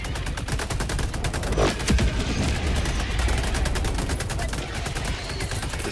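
Dense, continuous gunfire rattles through a Helldivers 2 bug-hunting battle, rapid overlapping shots forming a loud, unbroken barrage with a faint voice beneath.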